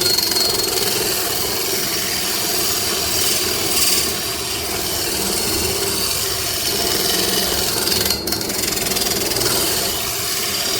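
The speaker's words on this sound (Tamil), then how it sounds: "நம்ம கத்தியை சாணம் பிடிக்க போகிறோம் கத்தியை ஷார்ப்பனிங் பண்ண போகிறோம்" A kitchen knife is sharpened on a sharpening attachment driven by a table fan, with a steady loud grinding whir and motor drone running without a break, nearby and alone.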